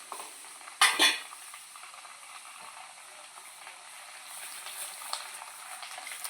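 Masala frying in a pan on a low flame for a prawn pickle: a soft, steady sizzle with one brief louder clatter near the start, no talking.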